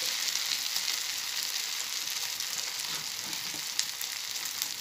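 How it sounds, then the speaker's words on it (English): Vanjiram fish pieces fry in hot oil for an Andhra masala fish fry, a steady, dense sizzle with fine crackles running evenly throughout, close and alone with no voices. "Let it fry."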